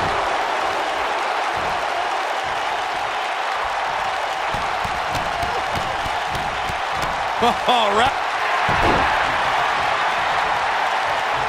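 Arena crowd noise from the WWE 2K19 wrestling video game, a steady broad roar of cheering and applause throughout, with commentators talking over it.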